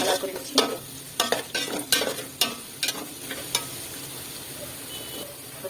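Sliced onions with spices frying in a pan for chicken vegetable biryani, a steady sizzle broken by repeated sharp scrapes and clatters of a stirring spoon up close.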